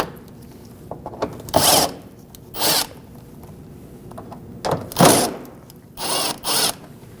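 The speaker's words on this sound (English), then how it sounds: "So 10mm head for a socket or a wrench, and just take these 3 screws out." A power tool drives out three 10mm screws holding the bumper cover of a 2010-2024 Toyota 4Runner, heard as several short, close whirring bursts with quiet gaps between them.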